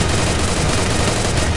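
Gunfire from the battle royale video game Free Fire: a brief, dense burst of rapid shots forms a loud, continuous crackling barrage.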